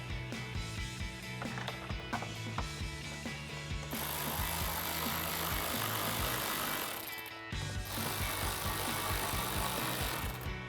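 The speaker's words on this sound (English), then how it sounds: "So we're gonna grab our ratchet and 7mm socket and just tighten them down." A ratchet fitted with a 7mm socket turns two screws on a 2015-2017 Ford F-150 grille install, giving quiet, rapid clicking bursts with brief pauses between strokes.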